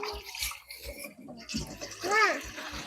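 Water splashing and pouring as it is fetched for fish soup in an outdoor hut kitchen, uneven bursts of sloshing close by, with talk over it.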